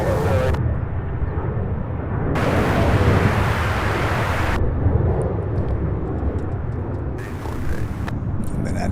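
A 14-year-old UPS Boeing 767 freighter, flight 2984 bound for Seattle, roars at SDF airport, a loud continuous broadband jet rumble that surges and eases in waves over several seconds.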